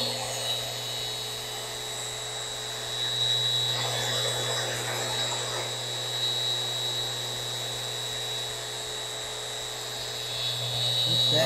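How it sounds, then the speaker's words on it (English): An electric sander runs continuously on a live edge wooden coffee table, a steady close whine with a constant low hum that swells slightly midway, while a voice talks faintly underneath. "And then it goes nice and fast. Amazing sander."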